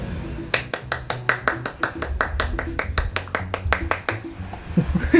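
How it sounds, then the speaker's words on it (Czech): Brisk hand clapping from a spectator cheering on a Tour de France 2013 rider, a rapid run of sharp claps over about five seconds with a low murmur of crowd or ambient noise underneath. "Jsem mu zatleskala, aby se mu jelo líp."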